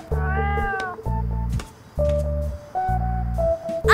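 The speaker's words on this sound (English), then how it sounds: "I can't believe anyone could hit a cute cat like this." A cartoon cat gives a series of four drawn-out, tonal meows in a steady rhythm, close and clear with short pauses between each cry.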